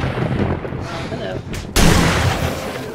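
Gunfire in 7 Days To Die, fired down at a zombie horde from a horde base: a loud, dense burst of game shots with a sharp blast near the end, under a continuous wash of noise.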